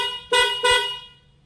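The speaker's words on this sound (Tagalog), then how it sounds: "so ang ganda ng tunog ng ating pop-up horn." A custom mini van's pop-up horn gives two loud, close toots in quick succession, each a bright tonal blast, the second fading out.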